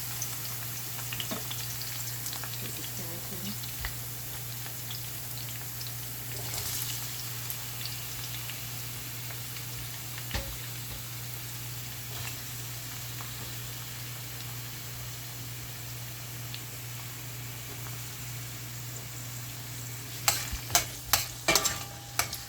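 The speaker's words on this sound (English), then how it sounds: "sauteing and sauteing the scallion. And then I put some carrot." Scallion and carrot sautéing in a pan for a Jamaican-style cucumber and saltfish dish, a soft, steady sizzle heard close up, with a cluster of sharp utensil clicks and stirring taps near the end.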